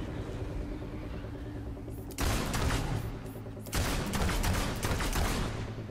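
Gunfire from a Fable II game battle, with sharp bursts of rapid shots starting abruptly and returning in a second dense volley over steady game background sound.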